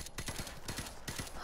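Rapid gunfire in the video game Modern Warfare Remastered: a quick, rhythmic string of sharp bursts that runs continuously through the short moment.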